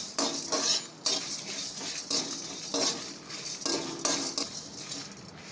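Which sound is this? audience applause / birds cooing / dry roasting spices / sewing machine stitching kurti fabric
dry roasting spices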